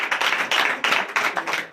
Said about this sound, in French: Donnez l'acclamation au Seigneur Jésus.